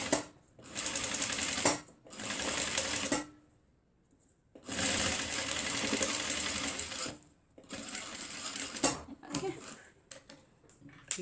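Sewing machine stitching a reversible fabric face mask with a filter pocket, running in three long loud bursts separated by short pauses, with brief quieter stops and starts near the end.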